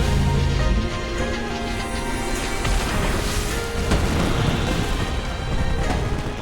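Fireworks bursting in a loud, continuous barrage of booms and crackles, dense and sustained throughout with no clear pauses.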